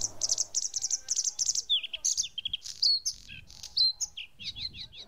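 A bluethroat, a songbird of lakeside damp bushes, sings a varied, rapid song of repeated chirps, trills and whistled phrases, close and clear with no other sounds.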